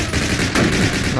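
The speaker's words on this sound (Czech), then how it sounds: "Ten, znovu ten Enfield, protože se mi z něho docela dobře střílí." Rapid gunfire from an Enfield rifle in the shooter game Call of Duty, loud and close, with sharp overlapping reports that blur into a dense burst over about a second.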